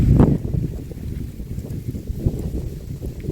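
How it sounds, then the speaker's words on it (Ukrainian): Wind gusts buffet the microphone with a low, steady rumble throughout, broken by a brief louder burst near the start, as wind shakes garden flowers and shrubs such as alpine asters. "Вітер мателяє все."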